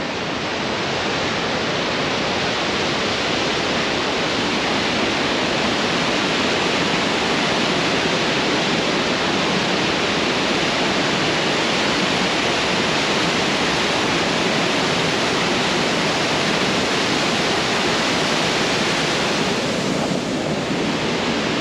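Fast mountain stream in Paddar Valley, Kishtwar, Kashmir, rushing at high speed as a loud, steady, broadband roar of churning water, close and continuous throughout with no voices.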